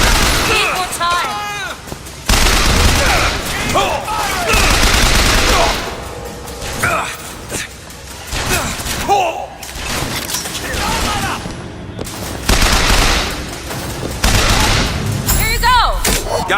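In the video game BioShock Infinite, repeated gunfire and heavy impacts sound close and loud, under shouting and talking voices.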